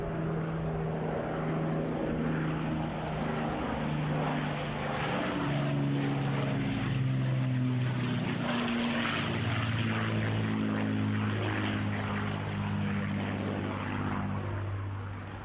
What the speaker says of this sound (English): Incoming Spitfire Hurricane, straight ahead, so come right round, straight towards us.